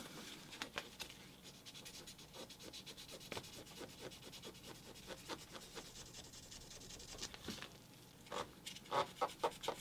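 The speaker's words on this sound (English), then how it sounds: "we'll do a little bit of sanding" Light hand sanding with fine 1500 grit sandpaper, a soft steady rubbing and scratching in short strokes, close up and quiet, with no voices.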